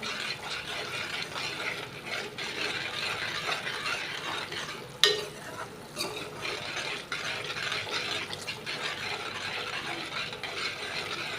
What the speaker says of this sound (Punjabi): ਮਸਾਲਾ ਆਪਣਾ ਭੁੱਜ ਰਿਹਾ ਜੀ